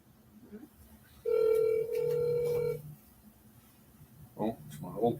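An old phone gives a single loud electronic ring tone lasting about a second and a half, followed by quieter noises and brief speech near the end.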